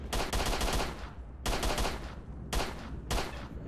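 Gunfire in S.T.A.L.K.E.R. Shadow of Chernobyl, heard as three sustained automatic bursts about a second long each, separated by short gaps and close and loud.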